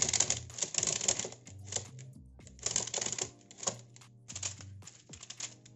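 A wooden Ugears mechanical horse model walking on paper gives a rapid, rhythmic clatter of close wooden clicks and taps over a low mechanical hum, in repeating bursts with short pauses.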